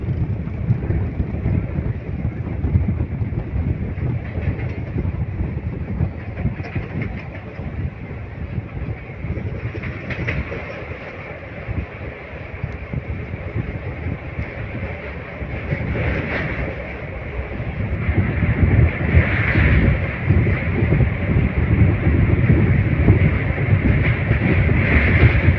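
Simhadri Express passenger train crossing a road-cum-rail bridge over a fast-flowing river, a steady close rumble of wheels and carriages with heavy wind buffeting throughout, growing louder toward the end, no talking.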